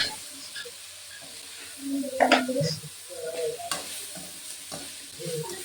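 Curry leaves sizzle and crackle in hot oil as they are stirred in a pan, with brief bursts of frying and a few soft clinks.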